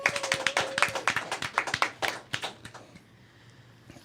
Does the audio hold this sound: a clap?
yes